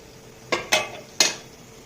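A spoon stirs chicken pulao rice mixed with coriander paste in a pot, giving three short scraping clinks in quick succession over a faint background hiss.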